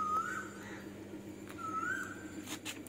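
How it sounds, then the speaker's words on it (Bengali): Two faint rising whistled calls of a distant Asian koel, evenly spaced, over a quiet steady background hum. "আবার এদিকে কোকিল ডাকছে।"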